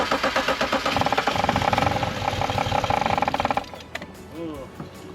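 An abandoned BMW 335i engine chugs and pulses roughly for a few seconds, then stumbles and dies instead of settling into an idle, leaving a quiet tail with faint noises.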